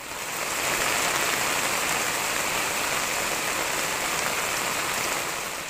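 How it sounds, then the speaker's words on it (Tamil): Light drizzling rain falling steadily across the Tamil Nadu countryside, an even, dense hiss of drops on surfaces throughout, with no voices or other sounds. "இன்று அதிகாலை முதல் லேசான சாரல் மழை பெய்து வருகிறது"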